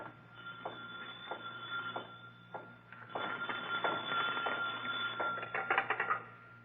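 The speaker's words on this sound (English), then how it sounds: "Suddenly, a phone rings on the desk of the night watchman, rings and shatters the silence of this modern tomb of ancient art." A desk telephone rings in an old radio drama set in a night watchman's office at a city museum, its bell sounding in repeated bursts that grow busier and louder toward the end, with no talking.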